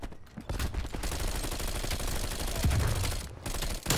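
Dense, sustained automatic gunfire from the Bullfrog submachine gun in Call of Duty Cold War multiplayer, loud and continuous with rapid overlapping shots and brief pauses near the start and end.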